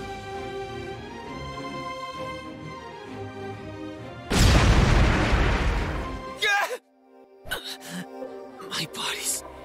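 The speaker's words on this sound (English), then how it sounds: "Did the magic crystals... explode?" A burst of fire magic sets off magic crystals in the Re:Zero video game, a loud broad blast lasting about two seconds that cuts over game music and then drops to near silence before sharp clattering sounds follow.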